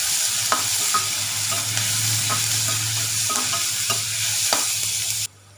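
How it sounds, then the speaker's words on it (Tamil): Steady sizzling of onions frying in a pan with oil, occasional stirring clinks and scrapes, continuous and close, cutting off abruptly at the end. "வெங்காயத்தை நல்லா வதக்கிக்கலாம்."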